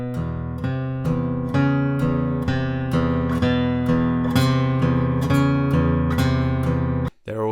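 The low bass line of a theme is played on guitar as a steady, repeating pattern of sustained picked notes, plucked on every beat with no talking. The phrase ends in a brief scrape.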